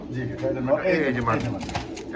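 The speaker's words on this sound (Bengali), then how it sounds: "অরিজিনাল রেড কালার লাহরি কবুতর" Red Lahori pigeons give low, throaty coos that swell and roll close by, mixed in with someone talking over them.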